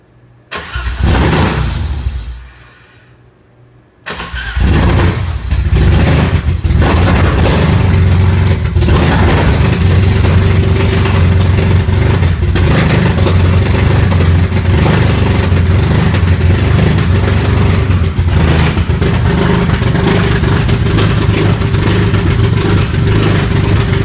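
A 1987 BMW E30 325i four-door with a swapped M54B30 inline-six cranks briefly, pauses, then fires up and settles into a steady, loud, close idle with light revving, no voices.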